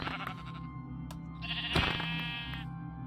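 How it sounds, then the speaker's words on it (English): Minecraft sheep giving a couple of close, nasal bleats over a quiet game background, one longer call near the middle, with no talking. "one of the better mobs to kill early game is the sheep"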